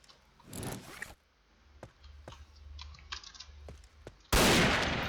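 Sharp pistol shots ring out one at a time in the Point Blank shooting game, several crisp cracks spaced across a game-mode soundscape, ending in a loud sustained burst of noise.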